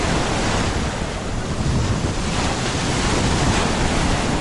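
Black Sea waves wash steadily onto the shore at Zalizny Port with a continuous broadband roar of surf and wind buffeting the microphone, and no voices.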